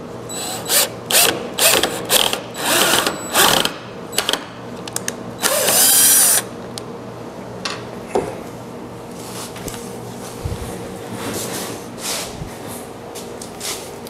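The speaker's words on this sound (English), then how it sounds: "I'm drilling this I'm drilling this thing in" A power drill drives a part into a hole during a homemade handicapping computer build: several short, loud whirring bursts with ratcheting clicks early on, then quieter mechanical noise.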